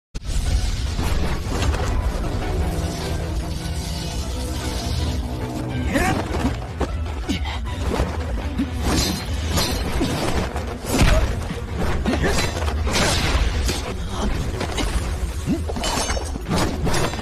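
Explosion from an attack blasting a place in the animated series Wu Dong Qian Kun, heard as a loud, sustained roar of booms, crashes and shattering debris with repeated heavy impacts over a deep rumbling bed.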